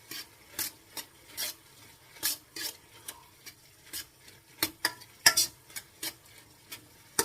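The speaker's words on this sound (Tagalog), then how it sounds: "haluin na ulit natin ang ating pork" Pork being stirred in a pot while cooking for dinuguan, a Filipino stew, with a steady series of scraping and clinking strokes of a spoon against the pot, repeating every half second or so at close range.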